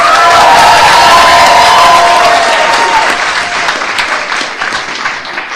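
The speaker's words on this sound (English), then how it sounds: "A round of applause to Theodore Von Usick." A crowd claps loudly and steadily, with some cheering mixed in, then the applause gradually thins and fades toward the end.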